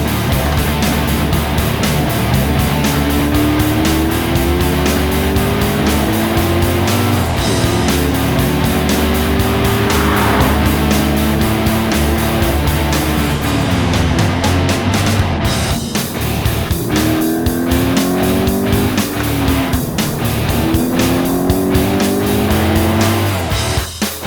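A car on a race track runs timed laps, its engine close and loud as it climbs and drops through the gears, with repeated rising revs and tire noise throughout and no talking.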